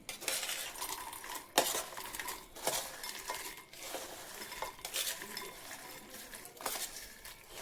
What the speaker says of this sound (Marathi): आपलीच कॉर्न आता सगळी तळून झालीत आता आपण ते एका बाउलमध्ये घेऊया